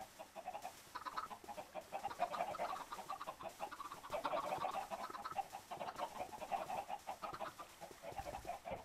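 Many chickens cluck and squawk together at a crowded chicken farm, a dense, continuous flock chorus with overlapping calls, moderately loud and steady throughout.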